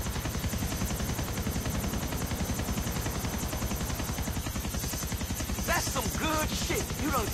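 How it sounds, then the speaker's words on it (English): A helicopter's rotor chops in a fast, steady rhythm, loud and close, with a whining engine behind it and brief chirps near the end, in the video game Grand Theft Auto IV. "we're just in a helicopter"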